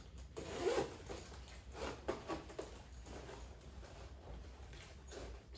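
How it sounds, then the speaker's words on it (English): A .50 Cal jacket is zipped up in a few quiet, close rasping strokes of the zipper, separated by brief pauses, against a faint background hum. "And we'll go ahead and zip her up."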